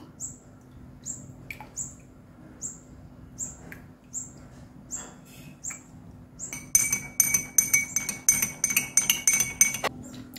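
Ice cubes dropped into a glass of rose milk give bright clinks and taps, sparse at first and then a rapid cluster of close, tinkling knocks against the glass.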